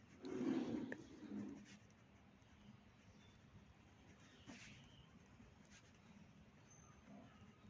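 Notes are written on a board during a Sanskrit lecture, with faint scratching strokes near the start, a few light taps, and quiet room tone.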